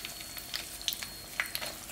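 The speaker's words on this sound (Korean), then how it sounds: "지금 맛있게 한번 튀겨볼게요" Chili peppers frying in cooking oil give a soft, steady sizzle with scattered crackles and pops, fairly quiet and close, with no voices.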